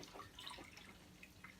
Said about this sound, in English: So you can see it's very easy to do a water change for a small tank